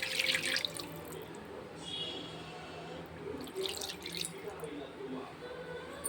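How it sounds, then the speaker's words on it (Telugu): Water poured into an Andhra-style tamarind fish stew, a splashing trickle that starts and stops with drips, under quiet speech. "సరిపడా వాటర్ కూడా పోసుకుందాము."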